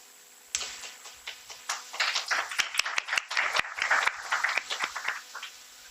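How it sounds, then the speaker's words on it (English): Audience applause after a panel speaker at a discussion on the courts and democracy: a burst of clapping starts abruptly and continues steadily with some sharp, close claps, then stops. "We were applauding for you, not the court, of course."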